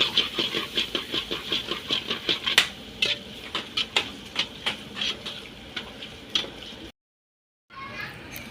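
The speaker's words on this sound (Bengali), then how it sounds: "মটরগুলো ভেজে নিই" Peas frying in a pan, heard as rapid rhythmic clinks and scrapes of a utensil against the pan over a steady sizzle, close and fairly loud, before a brief silence and a resumption.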